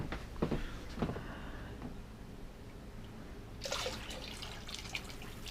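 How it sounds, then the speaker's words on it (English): Hot water runs into a container being filled for a sous vide steak cook, with a burst of splashing pouring near the end after quieter drips and small clatters at the start. "So I'm basically filling that up with hot water."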